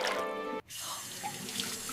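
Cold water runs from a tap into a sink while dishes are washed, a steady hiss that breaks for a moment and then keeps flowing, soft and close.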